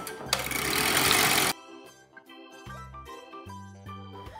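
Electric mixer whipping a mixture with vanilla extract and powdered sugar, a loud dense whir for over a second that gives way to quieter intermittent motor tones and clatter.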